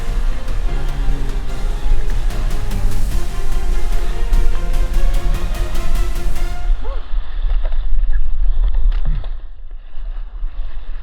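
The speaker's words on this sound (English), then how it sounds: "The swell slams off the back of the rocks, holding me in place." Ocean swell surges against rocks in open water, a loud continuous wash and churn that drops off abruptly partway through to a muffled, quieter underwater-like rumble with faint bubbling.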